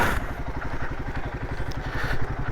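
A Royal Enfield Himalayan 450 motorcycle engine runs close by after an oil change, with a steady, throbbing mid-pitched pulse at a constant speed.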